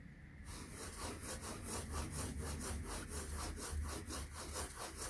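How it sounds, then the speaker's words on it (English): Small bits of eraser rubbed back and forth over a watercolor painting, making a steady run of quick, even scrubbing strokes, close up and alone. "you're rubbing these little tiny bits of eraser around on your painting"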